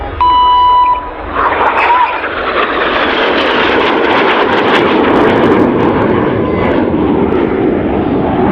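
Jet aircraft pass at an airshow with a loud, sustained roaring rush that swells and fills the whole stretch, heard from the crowd with brief beeps at the start.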